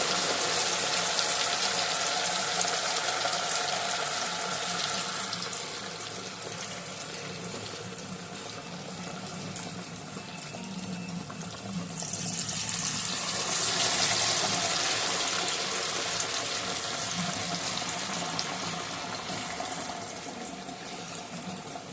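Battered fish and shrimp fry in hot oil, a steady loud sizzling hiss that swells as another piece is lowered in midway and keeps bubbling continuously.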